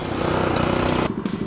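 A McLane lawn mower engine runs loud and close with a dense, rapid putter, then abruptly drops to a rougher, pulsing idle near the end.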